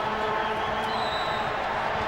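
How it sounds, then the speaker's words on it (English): Incessant crowd buzz at a Peru versus Honduras football match, a dense, steady roar of many voices filling the stadium without pause. "you just hear this incessant buzz in the crowd right now"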